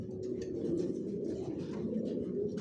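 A long-type Johnson line racing pigeon hen, sitting on her eggs in the loft, coos softly and continuously at close range for the whole stretch, with no talking.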